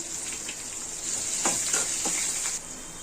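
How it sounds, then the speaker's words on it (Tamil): Onion, green chili and beaten egg fry in a pan with a steady, bright sizzle, broken by a few soft stirring scrapes, close and unaccompanied by voices. "வெங்காயம் பச்சை மிளகா சேர்த்து வதக்கிட்டு அதுக்கப்புறம் லைட்டாக வந்து நம்ம முட்டையை உடச்சி ஊற்றி நல்லா வறுத்துக்க போகிறோம்"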